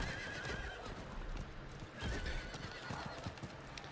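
A horse whinnies while hooves clop steadily, close and fairly loud over a rumbling background, in the video game Diablo IV.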